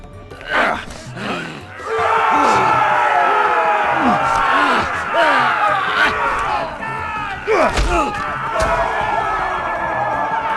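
An arena crowd in the Telltale Game of Thrones video game roars and shouts, dense overlapping yells and cheers swelling loudly after a brief quieter start, with individual cries rising above the din.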